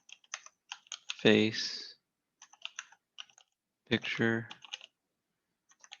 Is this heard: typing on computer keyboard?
yes